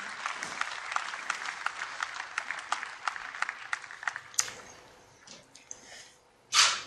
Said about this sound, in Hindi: आइए तालियों की गूंज के साथ आमंत्रित करें माननीय श्री नरेंद्र मोदी जी को